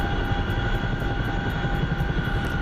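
A Chinook helicopter flies in a flight simulator, with a loud, steady engine drone and a fast, regular rotor thump throughout.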